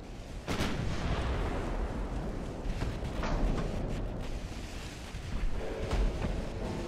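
Deep booming main-gun salvos from a warship in the naval game Ultimate Admiral: Dreadnoughts, several heavy rumbling reports over a continuous low sea-and-engine roar.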